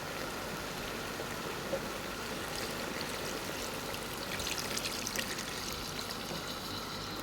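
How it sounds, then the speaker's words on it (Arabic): Water is poured into a cooking pot while making Algerian chtitha zaloufe, a soft, steady rushing trickle that stays faint and even for several seconds with no talking. "زيدولو الماء، ديرو هكذا الماء"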